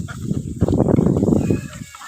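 Busy, overlapping quacking and honking from a flock of ducks on a duck farm, loud and close, swelling in the middle and tapering off at the end.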